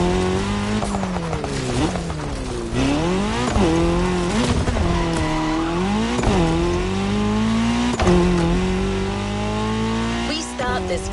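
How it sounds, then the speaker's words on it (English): Rallycross race cars in The Crew Motorfest, including a Ford Puma Hybrid, with engines revving loudly and continuously and rising and falling in pitch, tires squealing through the corners, and background music playing underneath. "We start this Red Bull playlist with a rally cross race."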